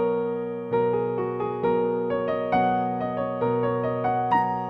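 Piano improvisation played only on the black keys with the sustain pedal held down, a steady stream of overlapping notes blending into a ringing, continuous wash of sound.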